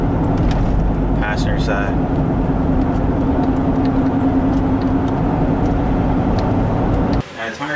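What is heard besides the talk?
GMC Envoy road noise with rumbling front wheel bearing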